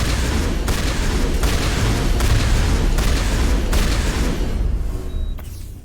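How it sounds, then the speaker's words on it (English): Shotgun blasts in Mass Effect Legendary Edition, several loud, booming shots spaced roughly a second apart over a dense, roaring wash of combat noise that fades at the end. "this shotgun's pretty good"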